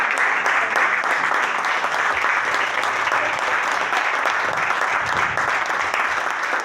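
Loud, continuous applause fills a lecture hall at a tribute event, a thick wash of many hands clapping steadily throughout without speech.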